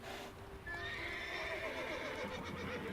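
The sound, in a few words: horses neighing in a video game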